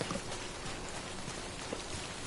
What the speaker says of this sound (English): A game actually makes me dislike rain